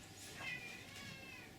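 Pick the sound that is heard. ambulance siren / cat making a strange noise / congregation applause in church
cat making a strange noise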